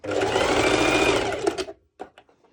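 A sewing machine or serger stitches the fabric of a one-shoulder top in a steady, loud whirring run of about a second and a half, then stops, followed by a few faint clicks and handling noises.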